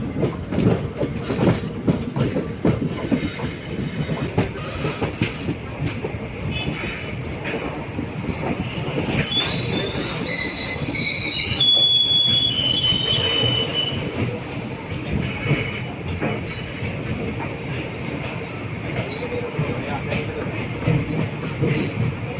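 The Ernad Express passenger train runs on rails in Kerala, heard from aboard as a steady rumble with rhythmic clatter from the wheels and a sharp metallic squeal partway through, loud throughout.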